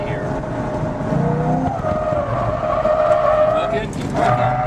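A car on a skidpad accelerates hard, its engine note climbing while the tires squeal and slide, loud and close, with a brief voice heard over the noise.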